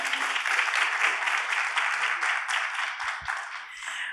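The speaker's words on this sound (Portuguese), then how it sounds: "agora palmas de novo." An audience applauds steadily at a public talk on public education, the clapping dense and sustained before thinning slightly toward the end, with no one speaking over it.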